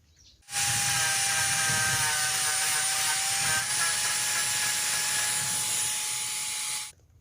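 A machine scraping coconut husk, a steady loud grinding whir with a high whine that starts abruptly, runs for about six seconds without a break, then cuts off.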